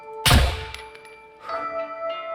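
A rifle shot strikes a target on a shooting range in the video game SCUM, landing as one sharp, loud impact thunk with a ringing metallic tone that decays, followed by a fainter second ring.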